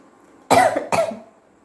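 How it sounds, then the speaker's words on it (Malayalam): Two sharp, close coughs in quick succession, the second trailing off, during a sneezing challenge; no talking. "അപ്പോൾ ചുമയും വന്നു"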